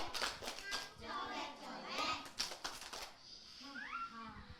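Kindergarten children in Indonesia clap their hands in a quick, irregular run of sharp slaps during a clapping game at a school event, mixed with lively talk and chatter close by.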